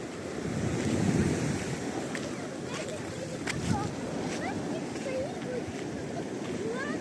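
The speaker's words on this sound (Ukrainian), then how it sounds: "сьогодні волна. Волна серйозна" Surf rolls in with a steady wash and rumble on a crowded beach at Golden Shore, Odesa, on a hot day with big waves. Wind buffets the microphone, and distant voices and a few faint squeals sit underneath.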